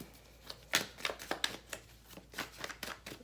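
Tarot cards being shuffled in a series of crisp riffling bursts and soft slaps, close and fairly quiet, with no talking.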